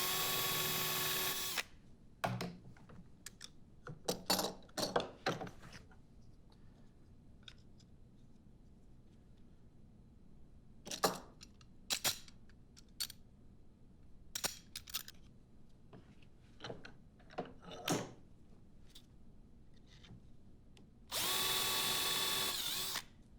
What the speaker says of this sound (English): And I'm ready to drill the holes.